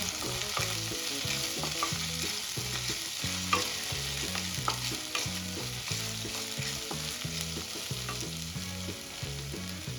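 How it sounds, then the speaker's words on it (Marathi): Ginger-garlic paste being stirred into softened onion in a hot pan, with a spoon scraping in a steady repeated rhythm over a continuous close sizzle; no talking. "इथे आपल्याला अद्रक लसूणची पेस्ट छान मिक्स करून घ्यायची आहे कांद्यामध्ये"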